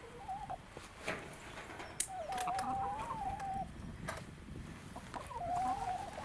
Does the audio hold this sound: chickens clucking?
yes